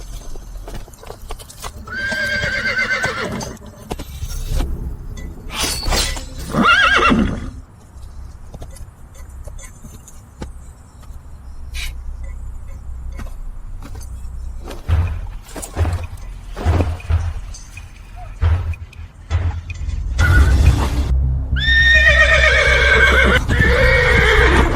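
A blood horse from the western regions neighs loudly several times, with whinnies near the start, in the middle and at the end, between stretches of hoofbeats and scuffling.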